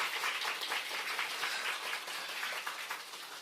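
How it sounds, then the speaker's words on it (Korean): A church congregation at a Sunday service claps in welcome for a visiting pastor, a steady wash of many hands at moderate distance that holds evenly and thins slightly at the end. "박수로 환영합니다"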